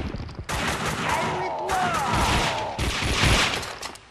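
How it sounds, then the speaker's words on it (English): Gunfire erupts in Max Payne 2, loud close bursts of rapid shots and automatic fire that keep coming in dense volleys across the whole stretch. "Someone must have heard the gunfire."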